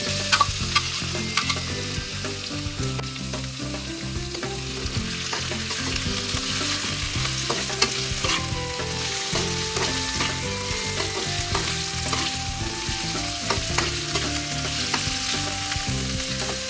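Pork sizzles with garlic in a pan for lomi, a steady, loud frying crackle broken by repeated stirring scrapes, with no voices.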